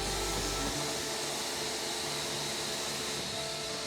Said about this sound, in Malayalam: അപ്പോൾ അവിടെ വാക്കം ചെയ്യുന്ന സമയത്ത് ഇവിടെ ഈ മാറ്റ് ഒന്ന് ക്ലീൻ ചെയ്യുവാണേ.